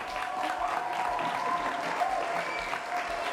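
Steady, dense audience applause fills a music television show, many hands clapping at an even level throughout with no pause.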